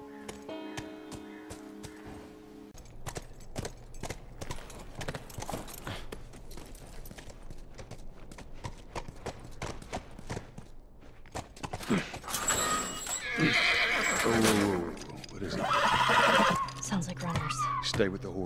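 A video game horse whinnies and snorts amid steady clip-clop hoofbeats, with people talking over the sounds and louder neighing toward the end.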